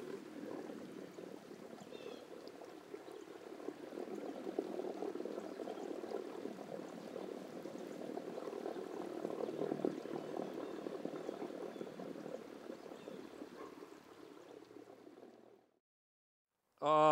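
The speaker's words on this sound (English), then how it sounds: "Sound of the water," River water flows steadily along the Cheat River in Preston County's mountains, a continuous broad rushing wash that stays even and close for most of the stretch before cutting out near the end; frogs on the bank are not clearly distinguishable.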